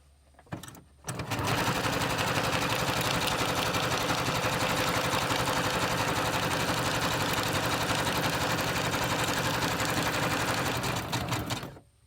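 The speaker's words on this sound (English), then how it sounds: "I'm going to do a zigzag stitch, so let's go." A sewing machine runs a zigzag stitch in one steady, continuous whirring burst of about ten seconds, close and loud, starting after a brief pause and stopping near the end.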